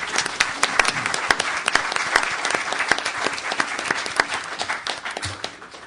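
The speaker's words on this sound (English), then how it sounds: "Give Pete a round of applause for what he does." A crowd applauds steadily for several seconds, dense clapping from many hands filling the room without a break.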